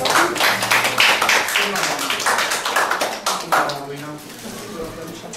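An audience applauds a couple celebrating 50 years of marriage at a municipal ceremony honoring elderly residents, steady dense clapping filling the room throughout, with voices murmuring underneath.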